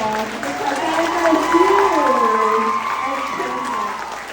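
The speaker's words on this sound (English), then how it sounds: "Can we give them one more round of applause?" Crowd applause and cheering at an elementary school event honoring a salutatorian and valedictorian, steady clapping under a voice talking near the microphone.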